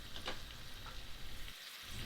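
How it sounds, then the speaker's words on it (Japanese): Madeira wine is deglazed in a cocotte pot after onions have browned, and the pan bottom is scraped. The liquid keeps up a continuous close sizzle and bubbling with small scraping touches, briefly dipping before it resumes. "それと同時に鍋底についている旨味をきっちりと剥がします。"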